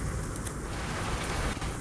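Steady rain falls on a hiking trail outdoors, a dense, even hiss of drops that stays constant and fairly close, with no voices.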